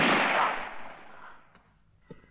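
A single gunshot fired at a man in a 1967 Italian comedy film, one loud close blast that decays into a fading echo, followed by a faint small knock.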